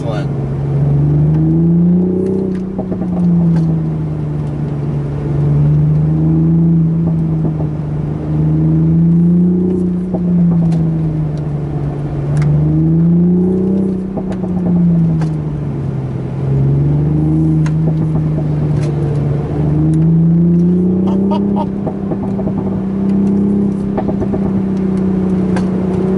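A 2020 Toyota Supra driven on the Tail of the Dragon mountain road, its engine droning steadily with cyclic rises and falls in pitch as it accelerates through curves, heard from inside the cabin for a long stretch.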